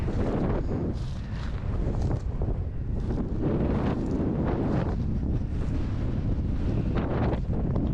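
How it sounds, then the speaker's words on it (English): Strong wind buffets the microphone continuously during a quail hunt on a Texas homestead, a steady roaring rumble with gusty surges and no other sounds standing out. "Windy today."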